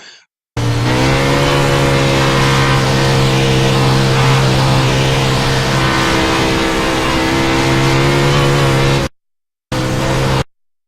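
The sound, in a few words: race car engine, throttle feathered on Knoxville track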